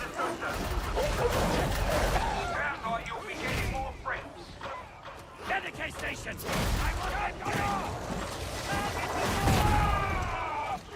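Dogs barking and yipping repeatedly in the Darktide video game, mixed with combat effects and crashes, with speech over parts of the din.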